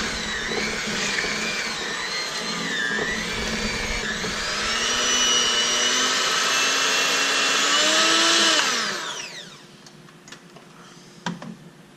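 An electric mixer whirs steadily through peanut butter cookie dough with a cracked egg, its motor pitch wavering as the beaters work, then winding down and stopping, followed by a few faint clicks and knocks.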